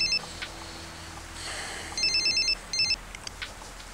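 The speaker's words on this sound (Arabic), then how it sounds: "تليفون" A telephone rings with a warbling electronic trill in two short bursts, heard indoors in an Egyptian film scene against a quiet background hum.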